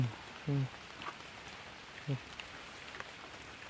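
Rain falls steadily outdoors while mushrooms are gathered, a soft, even hiss throughout, broken by two short low voice-like sounds near the start and middle.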